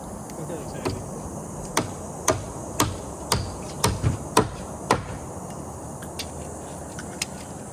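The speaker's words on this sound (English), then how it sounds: "This is where you want a hammer with a magnet on it." A magnetic hammer drives nails about nine times in an uneven rhythm, sharp knocks near and fairly loud, with soft background noise between blows, during winter log cabin porch construction.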